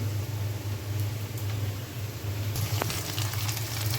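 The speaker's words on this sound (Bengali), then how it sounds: "এখানে যে পেঁয়াজ কাঁচামরিচ ভেজে নিচ্ছি" Onions and green chilies fry in a pan with a steady, soft sizzle and low hum behind it, and a brighter crackle picks up partway through.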